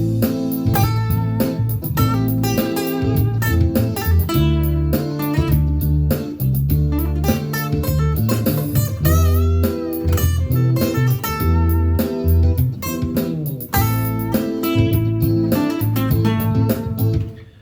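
Acoustic guitar strums and picks busy rhythmic chords over a full backing track with bass and drums, steady and loud throughout.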